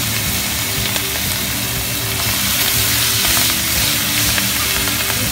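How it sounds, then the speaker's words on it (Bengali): Salted, turmeric-coated prawns fry in hot oil in a wok, a loud continuous sizzle and crackle up close with occasional stirring clicks. "চিংড়ি মাছগুলো ভালো করে ভেজে নেওয়া হবে।"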